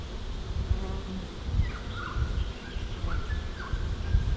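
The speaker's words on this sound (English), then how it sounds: "The bee family have lived here for about 20 years." A long-established bee colony in a suburban setting hums with a steady, dense buzz of many bees flying nearby, while a few faint bird chirps are scattered above it.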